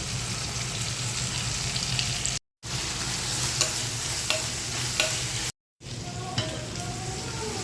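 Sliced onions and curry leaves sautéing in a pan for prawn biryani, a steady close sizzle with light stirring scrapes, cut by two brief silences.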